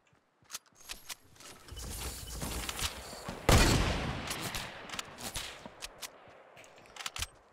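Gunfire crackles in a Fortnite match as sharp scattered shots build into a dense, loud volley midway, then trail off into spaced single cracks, with no talking.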